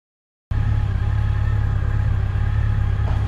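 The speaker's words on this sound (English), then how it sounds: "he hops on the Yamaha FJR1300 and gave it a rip" A Yamaha FJR1300 touring motorcycle's engine drones steadily and loudly up close as it is ridden at sunset, a continuous low, even rumble that starts abruptly after a brief silence.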